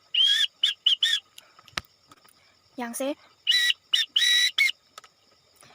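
Morse code letters are blown on a whistle: piercing high tones in short dots and longer dashes, grouped into bursts with gaps between them. A brief spoken phrase and a low chirping sound fall in the middle.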